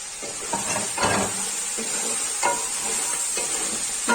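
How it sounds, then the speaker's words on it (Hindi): Mutton and onions fry in a karahi for a khara masala mutton karahi, giving a steady close hiss and sizzle. A few louder scraping bursts come from stirring, with no talk. "गोश्त हमारा 2 से 3 मिनट हो गए फ्राई होते। अब इसमें शामिल कर देंगे ये अपने प्याज।"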